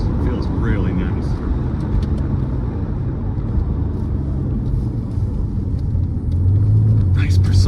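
A 1997 Porsche 993 911 Cabriolet with the top down is driven through corners, giving a loud, steady low engine rumble with wind and road noise. A voice talks over it, and the engine swells near the end.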